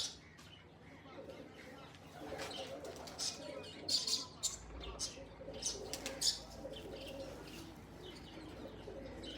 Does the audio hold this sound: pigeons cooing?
yes